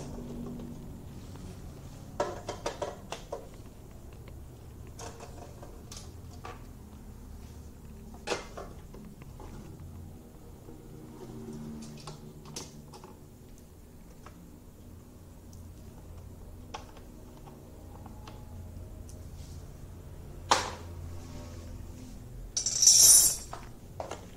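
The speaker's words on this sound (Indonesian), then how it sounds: "kita lepas 4 baut 10" Four 10 mm bolts being loosened and removed from a Mio J scooter, a sparse run of light metallic clicks, ticks and small clinks from close by over a quiet background, with a brief clatter near the end.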